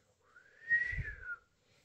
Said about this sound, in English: People don't know how to whistle, but let me do this.